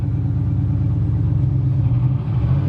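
A Dodge Dart V8 with a four-speed runs in gear, giving a loud, steady, low rumbling drone that holds close and even throughout. No voices.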